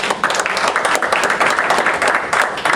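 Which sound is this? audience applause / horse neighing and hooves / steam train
audience applause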